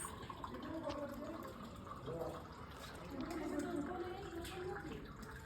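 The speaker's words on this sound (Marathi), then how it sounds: "ते पाणी येतं त्याचा मस्त आवाज येतो" Water flows from a clay pot at a cafe in Mahabaleshwar, a soft gurgling trickle that runs on with low talk mixed in beneath it.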